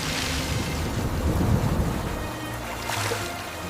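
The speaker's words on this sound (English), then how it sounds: "Dark storm clouds rapidly formed in the sky above us instantly, and then the rain finally came" Steady rain pours in a storm as low thunder rumbles and swells in the background, a continuous dense wash with no voices.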